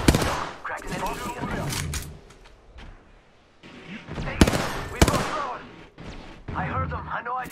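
Bursts of gunfire in the video game Apex Legends crack out in rapid volleys with sharp single shots between them, loud and close, while a player's voice talks over the action.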